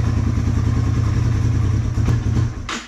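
A Yamaha TW200 motorcycle riding in deep snow, its steady thumping single-cylinder engine loud and close, easing off near the end with a short clatter.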